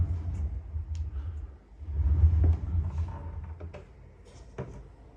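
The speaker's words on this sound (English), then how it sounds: "Both can slide properly." Repaired wardrobe sliding doors in a home in Singapore glide open and shut, a low rolling rumble that swells in the middle and is followed by a few light knocks and clicks.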